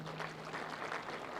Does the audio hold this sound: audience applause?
yes